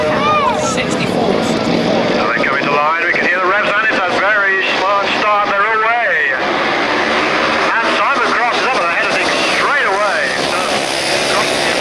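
Grasstrack racing motorcycles at the 1989 Bonfire Burnup rev loudly and continuously at the start line, a dense droning roar under a race commentator's voice.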